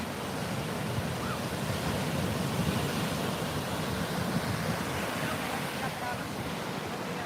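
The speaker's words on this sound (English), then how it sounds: "Can you guys hear like the waves? Because they're super loud on my end." Loud ocean surf crashing continuously on a beach, a dense roaring wash with wind noise buffeting the microphone, steady and close throughout, with no clear voices.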